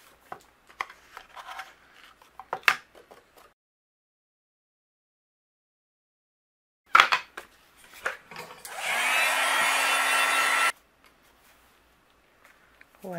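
A heat tool embossing white powder on cardstock gives a steady blowing whoosh for about two seconds, following brief handling rustles and taps in a quiet room.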